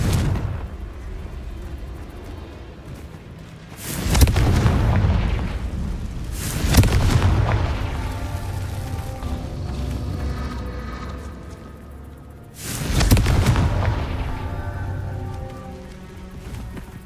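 Confringo blasting spells exploding in the Hogwarts Legacy video game: three loud, broad booming bursts spaced several seconds apart, each with a rumbling decay, over a steady rain-like hiss of game ambience.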